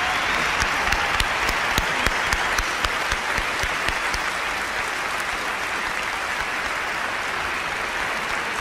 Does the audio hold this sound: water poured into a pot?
no